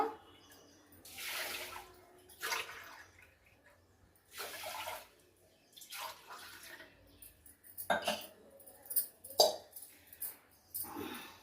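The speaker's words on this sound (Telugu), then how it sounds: "నీళ్ళు వేసుకుంటున్నానండి" Water is poured into a cooking pot while making ginger pongal with ghee: several separate gushing pours, each a few seconds long, close and moderately loud, with quiet gaps between them.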